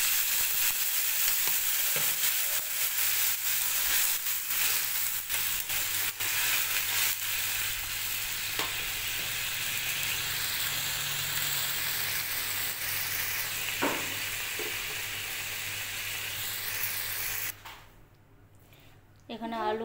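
Water poured into a pan of sizzling fried potatoes and peas, giving a dense, continuous hiss with occasional sharper crackles that stops abruptly near the end.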